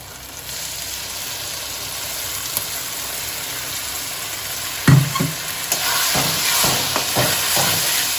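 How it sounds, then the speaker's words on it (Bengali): A paste of ginger, chili, garlic, onion and tomato hits hot oil in a pan for a dried-fish curry, a steady hiss and sizzle followed by several sharp stirring scrapes and clanks near the end. "আমি যে পেস্টটা বানিয়ে রেখেছিলাম, আদা, লঙ্কা, রসুন, পেঁয়াজ, টমেটো, এই পেস্টটা দিয়ে দিচ্ছি।"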